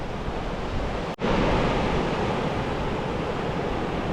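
Ocean surf rolls onto Sumner beach in Christchurch, where surfers ride the waves: a steady, close, hissing roar of breaking water with wind across the microphone and a brief dropout near the start.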